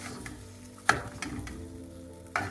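An egg fries and browns in a pan, a soft continuous sizzle broken by a few sharp clicks of a utensil against the pan.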